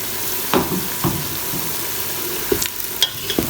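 Onions fry in a pan with a soft, continuous sizzle, and a few sharp stirring clinks and scrapes break in now and then, close by.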